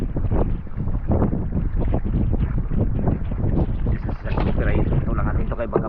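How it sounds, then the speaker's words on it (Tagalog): Strong wind buffets a small boat out on the water, roaring and gusting continuously with heavy microphone rumble, while people talk loudly over it. "Uwi na tayo, mahangin na."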